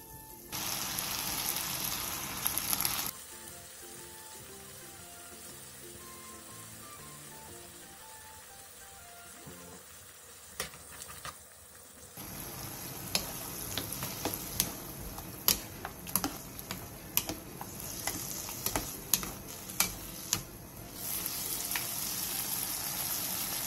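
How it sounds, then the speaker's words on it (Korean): Sauce of soy sauce, soju, brown sugar, water and starch syrup reduces in a pan over medium heat, giving a soft, steady sizzle and bubbling. It stays faint throughout, dips quieter partway, and has occasional light clicks. "중불에서 자작하게 졸여주세요"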